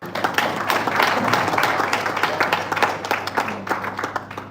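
Audience at an airport job-training presentation applauds with steady, moderately loud clapping from a medium-sized crowd, with a few individual claps standing out and a faint voice underneath.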